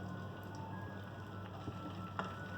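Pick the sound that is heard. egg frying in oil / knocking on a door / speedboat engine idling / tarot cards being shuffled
egg frying in oil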